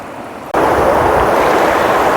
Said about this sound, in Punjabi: ਇਹ ਦੇਖੋ ਨਦੀ